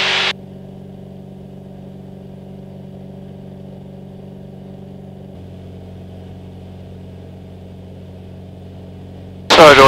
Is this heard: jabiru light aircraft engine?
yes